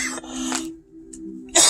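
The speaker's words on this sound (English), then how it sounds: "my cough keeps coming and going." A person with a lingering illness coughs once or twice, short harsh bursts close to the mic, with a quiet pause before a final loud burst.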